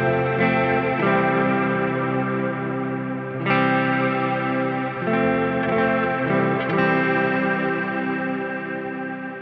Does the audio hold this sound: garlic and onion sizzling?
no